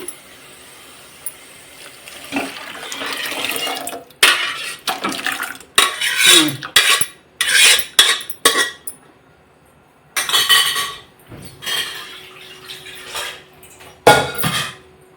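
Cooked lentils are stirred into fried masala in a pot, producing bursts of wet scraping, clinks and metallic knocks of a spoon against the pot, separated by short quiet gaps.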